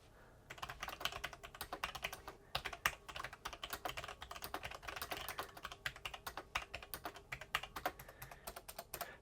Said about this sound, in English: you can hear what it sounds like when you're typing away on this keyboard